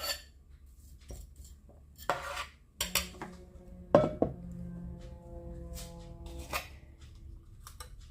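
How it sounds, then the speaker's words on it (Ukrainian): Sliced potato batons are tipped from one bowl into another, giving a few sharp knocks and clinks of the dishes followed by a soft ringing tone that fades, fairly quiet and with no talking. "ось тепер цю мисочку я викидаю нарізану картоплю"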